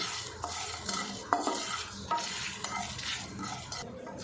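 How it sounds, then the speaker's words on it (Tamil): Mustard seeds, red chillies and garlic roast in a pan over a low flame while a spoon stirs and scrapes the pan. A soft continuous sizzle runs under the stirring, with a few sharper metallic clinks. "லோ ஃப்ளேம்லேயே பாருங்கள் இது எல்லாத்தையும் நான் வறுத்துட்டேன்"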